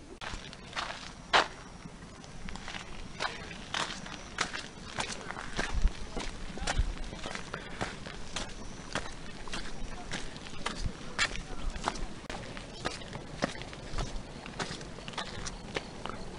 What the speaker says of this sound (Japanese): グツグツと音がしますよね。